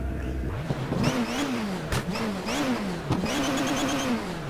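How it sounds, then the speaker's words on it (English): A car engine in the racing game Race 07 revs up and down repeatedly, its pitch rising and falling through gear changes, loud and close with a slightly synthetic game-like tone. "Ooh, that's a peppy little engine."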